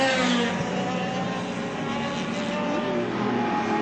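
Touring race cars at Lakeside during the 1984 Australian Touring Car Championship: a continuous loud, roaring engine drone with a slight pitch swell, sounding like cars passing at speed.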